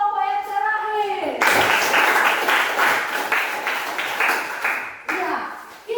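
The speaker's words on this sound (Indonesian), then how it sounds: "Tepuk tangan untuk kelompok yang terakhir." Classroom applause for the final student group: clapping from many hands rises after a teacher's voice, continues steadily for several seconds, and fades as talking returns.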